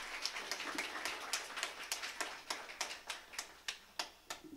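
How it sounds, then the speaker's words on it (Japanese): Audience at a high school graduation live concert in a small Nishijin live house claps in a loose, thinning burst of sharp hand claps, moderately close, while a performer speaks briefly over it. "宮原まつりに拍手。"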